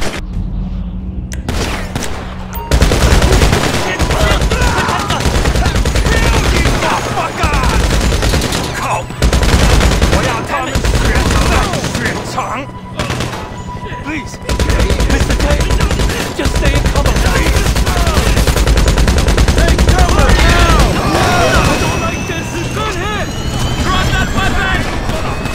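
Gunfire from a shootout in GTA V Online, with sustained loud bursts and rapid shots layered over helicopter or aircraft engine drone, running almost continuously with brief lulls.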